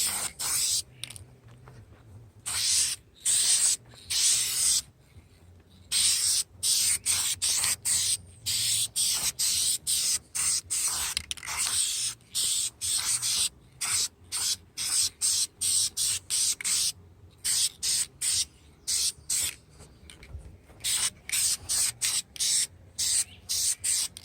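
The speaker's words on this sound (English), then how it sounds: "Let's throw a first coat on here, just a light mist coat." Light mist coat of spray paint going onto an alloy wheel: a steady run of short, sharp aerosol hisses, one after another, with brief gaps between, close and fairly loud throughout.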